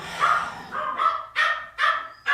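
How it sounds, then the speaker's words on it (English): Several dogs barking indoors, a run of five or six sharp, fairly loud barks in an uneven rhythm, with no talking. "those are my dogs."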